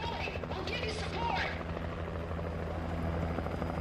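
A helicopter providing air support in the video game Alan Wake drones steadily, its rotor buzz and low hum continuous throughout, while muffled game sounds and voices come through underneath.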